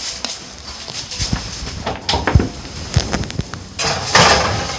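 A baking tray holding Hawaiian parmy wraps is pushed into a home oven with a string of close metallic clanks and knocks, ending in a longer rattling clatter.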